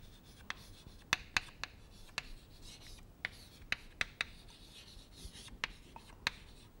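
Marker or chalk strokes on a board give irregular sharp taps and scratchy rubs, close and fairly quiet, with no talking.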